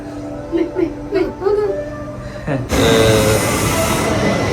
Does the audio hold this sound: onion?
no